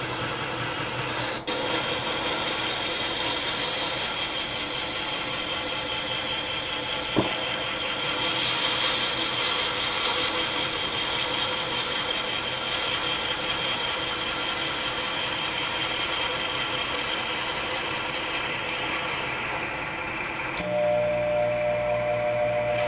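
A drill bit bores into a small wooden toothpick holder turning on a lathe, a steady whirring grind lasting throughout with a dusty, hissing edge and an exhaust fan running beneath. A sharp click falls midway, and the tone shifts near the end.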